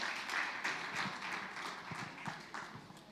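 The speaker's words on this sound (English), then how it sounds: "A round of applause, please" A small audience at a Nigeria-EU health investment forum claps, giving a light, scattered round of applause that stays fairly steady and fades slightly over a few seconds.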